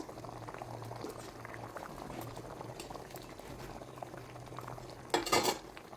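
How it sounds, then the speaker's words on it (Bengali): Rohu fish curry gravy with potatoes boils steadily in a pan, a close, continuous bubbling and popping with a short clink or stir just before the end. "ঝোলটা যখন এরকম ফুটে উঠবে"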